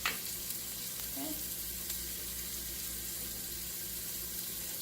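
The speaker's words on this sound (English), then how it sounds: "pieces of mushroom are down in the bottom of the pot, so they can all fry up and cook evenly." Mushroom pieces frying in the bottom of a pot for a cheesesteak, giving a steady close sizzle with soft crackle throughout and a brief clink near the start.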